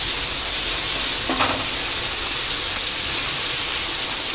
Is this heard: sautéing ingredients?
yes